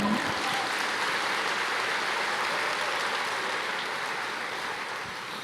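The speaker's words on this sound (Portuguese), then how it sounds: "Você pode aplaudir o Senhor?" A church congregation applauds in a sustained, dense wash of clapping that holds steady and tapers slightly toward the end, with no talking over it.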